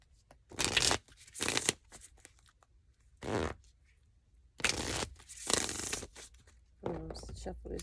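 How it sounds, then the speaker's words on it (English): A deck of tarot cards is shuffled in several quick riffling bursts separated by short pauses, close and clear, with quiet room tone between. "Shuffle this deck right here."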